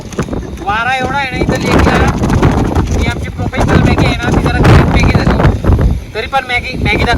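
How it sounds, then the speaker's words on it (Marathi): Strong wind at Pangong lake buffeting the microphone with loud, continuous low rumbling, while people talk over it throughout. "वारा एवढा आहे ना इथं लेकला"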